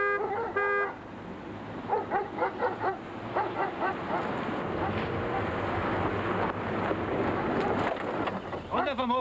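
A dog barks repeatedly on a farmyard, a run of sharp, fairly close barks mixed with shouting voices and wind noise.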